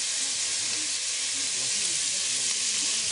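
Butter sizzling in a pan with chestnuts and bacon, a constant bright close hiss of frying that stays even throughout, with faint bubbling underneath.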